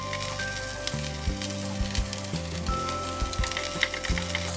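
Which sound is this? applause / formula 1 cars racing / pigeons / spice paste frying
spice paste frying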